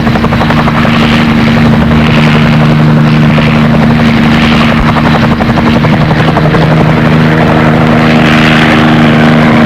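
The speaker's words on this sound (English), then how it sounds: "Clearing in the jungle is all that's necessary for the helicopter to operate." Helicopter flying low over jungle terrain, a loud steady rotor throb with a continuous engine whine, holding close and constant throughout with no voices.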